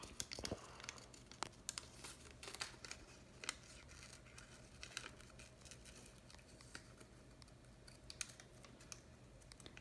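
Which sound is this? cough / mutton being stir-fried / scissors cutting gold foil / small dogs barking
scissors cutting gold foil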